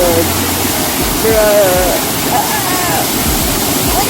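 A waterfall pours in a loud, constant roaring rush close by, while a voice speaks briefly over the churning water.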